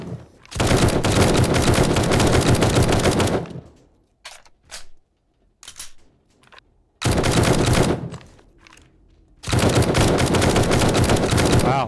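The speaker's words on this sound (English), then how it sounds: "Wow, that's some piss poor shooting there, bud." Loud automatic gunfire in the 7 Days to Die zombie survival game: long sustained bursts broken by short gaps with a few single shots, close and dominant with no talk.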